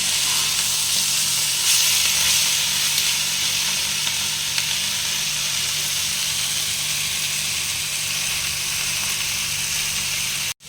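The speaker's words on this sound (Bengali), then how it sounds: "এটা আমি আবার পাঁচ মিনিট ভাজবো ঢাকনা দেবো না শুধু নাড়াচাড়া করবো" Continuous loud sizzling of sliced ivy gourd frying uncovered in a pan, steady hiss with occasional scrapes of stirring, close up and with no talking.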